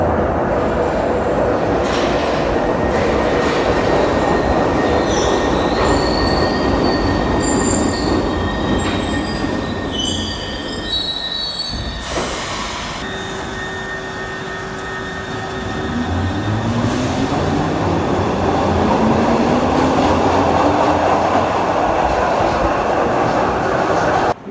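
A Glasgow Subway train running through the tunnels, a loud continuous rumble with clattering wheels and sharp, sustained wheel squeals, easing briefly mid-run before the roar and rising squeal return.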